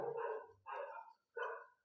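A dog outside barks three times, loud, spaced-out barks with short pauses between them.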